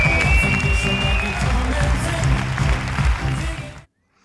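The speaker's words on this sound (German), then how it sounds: "Bitte begrüßt mit mir mit einem riesigen Applaus Dieter Lange!" Loud, dense applause from an audience welcoming a speaker onstage at a leadership training event, with some cheering mixed in, sustained throughout and then cutting off abruptly near the end.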